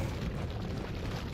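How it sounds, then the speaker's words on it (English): An explosive detonates in the video game Resident Evil 4, a dense low rumbling boom that fills the short moment at moderate loudness with no talk over it. "That guy's gonna run round into the explosive."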